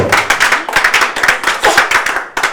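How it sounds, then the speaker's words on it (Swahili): A church congregation claps for Jesus Christ during a sermon, loud rhythmic group clapping in quick steady bursts with no talking. "Piga makofi kwa ajili ya Yesu Kristo."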